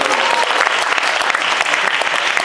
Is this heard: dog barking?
no